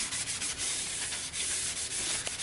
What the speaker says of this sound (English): Cleaning my pressure plate. Because it came with like fucking grease all over it.